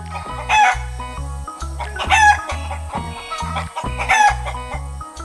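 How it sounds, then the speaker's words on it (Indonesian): Small chickens cluck in a green farm garden among piles of yellow straw, with repeated rooster-like calls rising in three loud bursts over a steady, rhythmic background. "Ayam kecil sedang berlarian di tengah tumpukan rumput kuning, di tengah kebun yang hijau dan penuh semangat."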